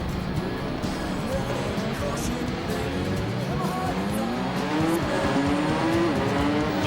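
Engine tones from an arcade-mode motorcycle racing video game rise and fall through shifting revs, with skidding tire effects, played steadily and fairly loud.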